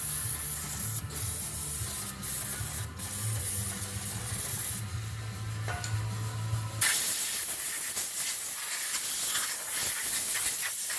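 Brake cleaner sprayed onto the rear brake of a 2011 Nissan Altima: a steady hissing spray running for several seconds, with a low hum underneath, then a rougher, broadband hiss after a brief change, close and fairly loud with no talk.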